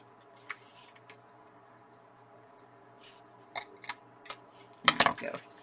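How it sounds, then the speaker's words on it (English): Scissors trim the edge of a paper page for a scrap flip book, giving a few quiet snips and rubs scattered through a near-silent room, ending in a sharper cluster of cuts. "let me just flip this over and trim it to the edge"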